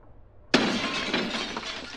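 Window glass shatters in Escape from Tarkov as a player jumps through it: one sudden loud crash followed by a sustained spray of tinkling shards over about a second and a half, close and alone.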